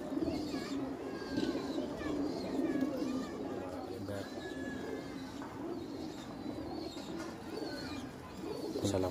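A breeding pair of Kasur pigeons coos steadily in repeated low, throaty phrases, close and continuous, with other birds chirping in the background.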